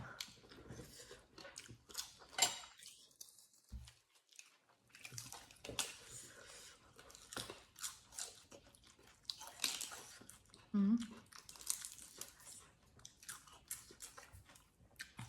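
Close, wet chewing and crunchy bites of spicy Thai som tam papaya salad with seafood, in quiet intermittent bursts, with brief soft voices between mouthfuls.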